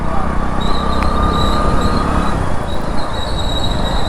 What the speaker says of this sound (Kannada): ರೈಲ್ವೆ ಸ್ಟೇಷನ್ ಬಂದೆ